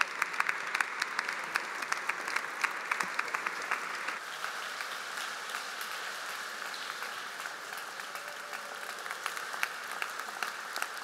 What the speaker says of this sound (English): Nice round of applause for those great Illini legends